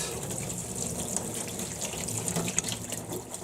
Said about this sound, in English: I'm going to run a little bit of cold water over top of them right now